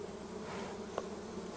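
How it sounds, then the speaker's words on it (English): Honeybees buzz steadily around an open hive during bee marking, a dense continuous drone with one brief click partway through. "Calm down, bees."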